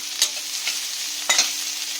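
Hilsa and rohu fish heads frying in a pan, a soft continuous sizzle broken by two brief scraping stirs of a spatula, with no voices.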